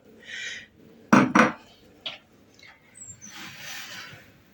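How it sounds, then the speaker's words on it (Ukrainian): A spoon scrapes and clinks against a metal pot in a few short bursts, with soft stirring swishes between them, close by, as salt is stirred into cheese curds for Adyghe cheese. "сипали сіль. Добре розмішали."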